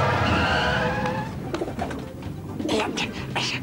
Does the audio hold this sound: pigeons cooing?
yes